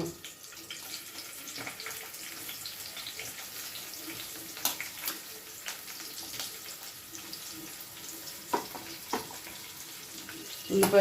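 Sliced onions go into a hot pan with green chilies, giving a steady, soft hiss of frying that runs throughout, with a few light clinks and faint background voices.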